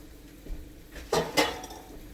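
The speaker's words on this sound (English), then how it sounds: "I'm going to take a cover and I'm going to put it in my dishes." A pot cover set down among dishes in a home kitchen during cooking gives two quick, close clattering knocks of metal and crockery, with no talking.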